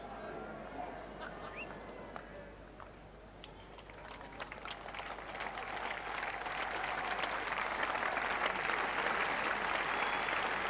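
Crowd applause at the Oval for the Pakistan captain's half-century during the 1987 fifth Test against England, a broad wash of clapping that swells steadily and holds at a fuller level toward the end, with a few scattered sharper claps.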